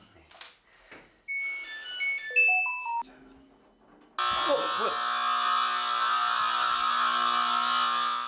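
A loud electronic alarm blares continuously through a house on an eel farm, a steady piercing buzz after earlier short beeping tones and a rising melodic chime, with brief voices underneath.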